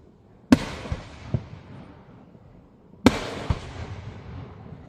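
Fireworks bursting on a fireworks night, two sharp distant booms about two and a half seconds apart, each trailed by crackling pops and a fading rumble, with no talk over them.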